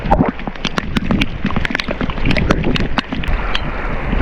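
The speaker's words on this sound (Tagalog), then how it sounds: "Lakas ng ulan." Heavy rain pours on a boat in open water under strong wind, a dense steady hiss with scattered sharp drop impacts and sloshing, loud and close throughout.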